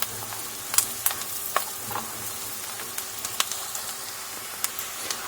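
Fried garlic topping for Egyptian yellow lentil soup sizzling in a pan, a continuous close crackle with sharp spatters and spoon clinks scattered through; no one speaks.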